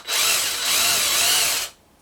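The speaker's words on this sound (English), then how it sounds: "you drill a hole" A power drill bores a hole next to the tap of a Breville VKJ142 HotCup water dispenser, a loud, close whine that holds for about a second and a half before stopping abruptly.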